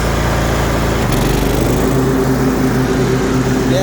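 A Troy-Bilt Mustang 50-inch zero-turn riding lawn mower runs steadily up close, with a loud constant engine drone and a rising whine entering partway through, and no one talking.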